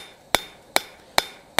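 A hand hammer strikes steel on an anvil while a spatula is being forged, four sharp ringing blows at an even, quick pace, close and clear with no voices.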